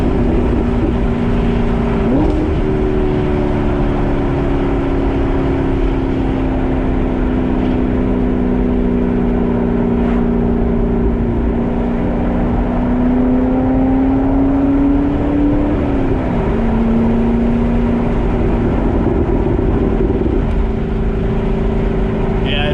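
A Chevrolet C7 Corvette fitted with an AWE exhaust drones loudly from inside the cabin while cruising, its V8 note rising and dipping with throttle changes and gear shifts throughout.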